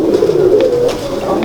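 Laal Pari pigeons coo in a steady, low, continuous murmur close by, with no voices over it.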